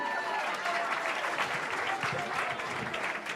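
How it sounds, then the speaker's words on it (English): Sustained applause from a crowd at a temple Diwali program, dense clapping throughout at a steady level. "Give these boys another round of applause."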